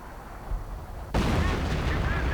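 A howitzer fires in a strategy video game as a sudden loud blast after a quieter stretch, followed by rumbling battle noise with a voice audible underneath.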